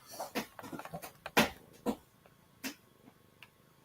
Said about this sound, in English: Oh yes, there's Meows.